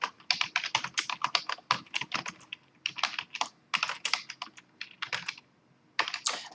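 Quick, light keystrokes on a computer keyboard patter in irregular bursts with brief pauses, close and fairly quiet, as a sentence of an essay is typed out.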